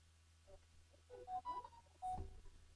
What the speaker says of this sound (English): Phone, you need to stop sending me messages.